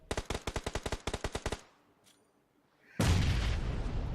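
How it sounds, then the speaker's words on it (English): Battle sounds from the BGMI mobile battle royale game: a fast burst of automatic rifle fire, a brief quiet gap, then a loud close grenade blast that roars and rumbles on to the end. "Oh, the nades are tossed in so close, Johnny."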